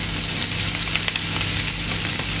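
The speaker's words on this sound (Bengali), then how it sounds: "এই আমাদের মাছ ভাজি" Fish, a small pati variety, fries in hot oil in a pan with a loud, dense, steady sizzle and crackle, close up and continuous.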